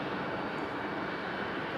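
An airliner at Raleigh-Durham International Airport, a steady broad engine roar, loud and continuous with no voices.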